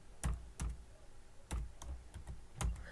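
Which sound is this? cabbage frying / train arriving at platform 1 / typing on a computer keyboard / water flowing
typing on a computer keyboard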